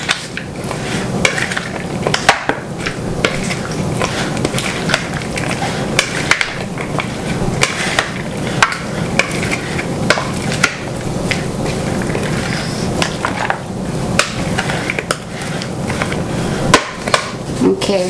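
A spoon stirs and clinks inside a container, mixing juice for a Mexican-style shrimp cocktail, with steady scraping and tapping that repeat throughout, close and fairly loud, with occasional background noise.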